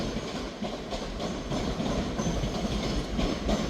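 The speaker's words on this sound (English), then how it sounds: "Departing out now is the 12:39 Scotrail service starting here at Edinburgh Waverley" A Scotrail train pulls out of Edinburgh Waverley station, a steady low rumble of wheels on rails with faint rhythmic clicks, moderately loud and continuous, with no voices.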